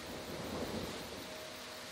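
Steady hard rain with low thunder rumbling through it, as weather in the video game Disney Dreamlight Valley; a dense, continuous wash of rainfall at even loudness with no voices.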